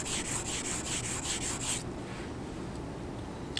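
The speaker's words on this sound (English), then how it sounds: "he's going to flood the surface with the conditioner A and then wet abrade, 10 or 12 strokes" Abrasive paper rubbing wet across a steel beam surface flooded with conditioner, a close, steady run of rapid back-and-forth strokes that stops partway through, leaving a low background hum.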